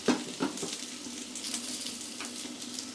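Potatoes frying in a home kitchen pan give a steady close sizzle for the full length, with a few soft stirring scrapes near the start.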